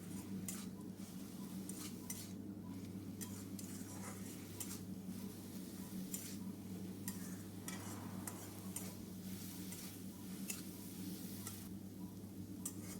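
Red amaranth leaves (lal saag) are stir-fried dry in a pan, giving quiet, intermittent scrapes and taps of a spatula over a faint low sizzle, with no voices.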